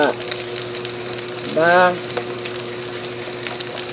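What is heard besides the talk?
eggplant frying in hot oil in a pan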